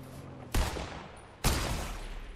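Two sharp gunshots ring out in Fortnite (OG, no-build battle royale), each a loud broadband crack followed by a lingering decaying tail, spaced about a second apart with no talk over them.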